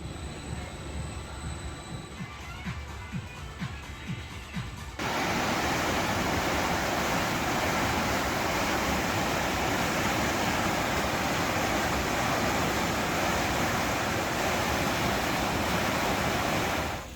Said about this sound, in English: There's that crazy Harvey water clock.